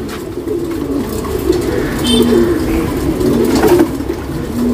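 A Vijayapura Makshi male pigeon coos in low, repeated rolling notes, close and steady, with faint background noise around it.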